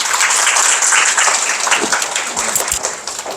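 Enthusiastic applause from an audience at an academy admissions information session, a thick burst of many hands clapping that carries on steadily and thins slightly near the end.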